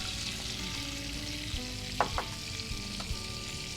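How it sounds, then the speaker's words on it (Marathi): Cumin seeds and green chilli tempering in hot oil for restaurant-style dum aloo give a steady close sizzle, with a few light clinks and stirring scrapes scattered through. "अर्धा चमचा फोडणी घातलं हिरवी मिरची"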